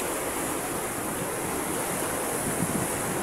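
Broad, steady roar of surf on a south coast beach by a sea gate, continuous wash of waves with wind noise, no talk.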